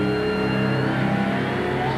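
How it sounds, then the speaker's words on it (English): The Miller Genuine Draft Rusty Wallace NASCAR stock car engine drones steadily, a loud, even mechanical roar with no break, heard alone without talk. "Miller Genuine Draft Rusty Wallace stock car."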